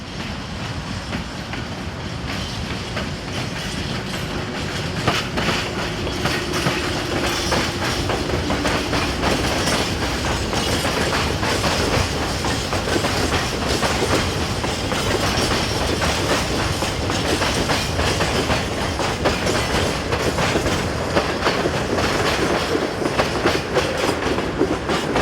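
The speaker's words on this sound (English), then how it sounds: "Heading west for the Ostrava line is SM42 diesel number 688." An SM42 diesel locomotive hauls a freight train past at close range, a steady loud roar of engine and rolling wagons with continuous rhythmic clickety-clack of wheels over rail joints throughout.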